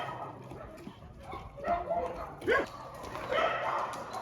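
Several dogs in their indoor room at a mountain home give yips, whimpers and short barks at close range, with a clearer burst partway through, while a person talks over them.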